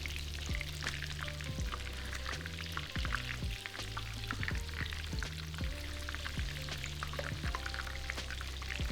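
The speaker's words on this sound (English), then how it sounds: "We're going to let that butter melt and start to foam a little, and it should start to turn very lightly brown." Butter melts and foams in a pan over heat, giving a steady crackling sizzle with fine pops, while music plays clearly over it throughout.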